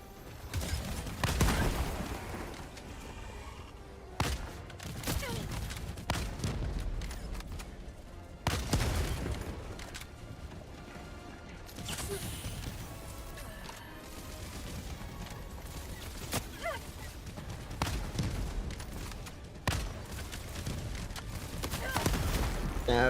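Gunfire in the tank combat game War Thunder, repeated sharp cannon and gun blasts with booming impacts scattered over about twenty seconds, some voice chatter under the battle noise.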